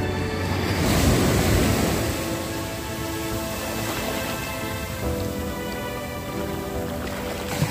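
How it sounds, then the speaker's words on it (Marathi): Big sea waves break and wash up the sloping sand of Sagareshwar beach at Vengurla on the Konkan coast, with a loud roaring surge near the start and then a continuous hiss of surf and wind. "बघा लाटा किती मोठ्या मोठ्या येत"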